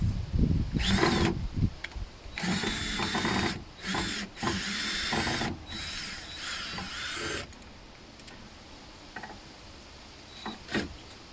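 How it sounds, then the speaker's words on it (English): A power drill whirs in several short bursts, stopping and starting as screws are backed out, with a few clicks between runs. "You just take your drill, put it through one of the holes"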